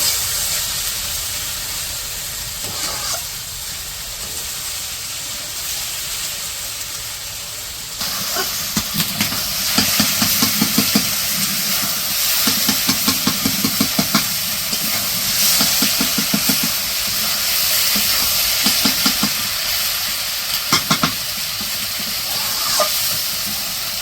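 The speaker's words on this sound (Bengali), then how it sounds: "এখন দিয়ে আরো কিছু সময় ভাজবো।" Water lily stems frying with fish in a pan in a village kitchen, a steady broad hiss and sizzle that grows louder and busier partway through, with rhythmic scraping pulses, no talk.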